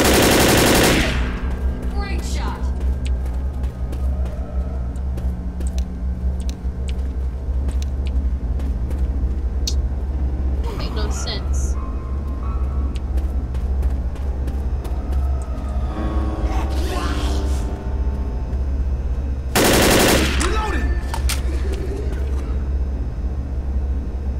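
Hunting rifle gunfire in the Left 4 Dead video game: a few loud, sharp shots spaced far apart over a constant rumbling game background.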